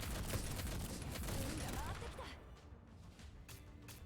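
Rifle squads open fire in the strategy game Girls Frontline: a dense, loud burst of overlapping gunshots for about two seconds, then thinner scattered shots and softer battle noise.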